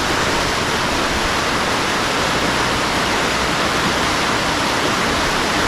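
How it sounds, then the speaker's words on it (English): Loud, constant broadband rush of river rapids churning beneath a large bridge in the Ontario wilderness along the Steel River, close and steady without pause. "And the other side is quite the set of rapids."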